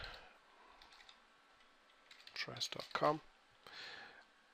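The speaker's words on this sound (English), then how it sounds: "we'll type in here at the top" A short burst of quick clicks on a computer keyboard as a web address is typed, fairly close, in a quiet room with faint background hum, preceded by a few softer taps.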